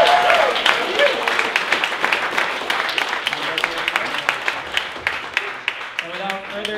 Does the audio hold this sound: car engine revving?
no